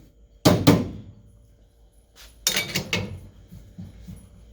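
An espresso machine's portafilter is knocked to dump the spent coffee puck, giving two close, sharp thunks in quick succession, then after a pause a second cluster of three rattling knocks, all near and fairly loud with no talk.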